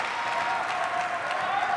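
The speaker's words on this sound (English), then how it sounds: "just listen to the crowd encouraging" Spectators at an ASEAN Para Games team table tennis match applaud and cheer in a steady, dense wash of sound that fills the hall with no break.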